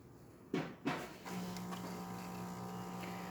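Jura automatic coffee machine at the pre-infusion stage of an espresso shot, two sharp mechanical clunks followed by a steady internal pump hum and whir that carries on at moderate level, with no voices.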